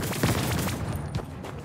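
A freeze rifle fires in rapid succession in ANVIL: Vault Breakers, a series of punchy, close shots with hard transients over a rumbling low bed.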